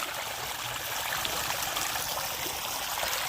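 Water streams along a channel during road repair work outdoors, a steady close rushing trickle with no break and no talk.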